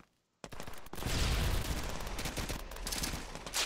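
Dense burst of video game gunfire in a free PS3D shooter erupts after a brief silence, with continuous rapid automatic shots and loud overlapping reports filling the rest of the clip, no talking.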